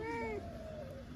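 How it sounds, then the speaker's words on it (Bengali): A single close cat meow, drawn out and falling in pitch, rising clearly over a steady low background hum. "ম্যাও শুধু ম্যাও।"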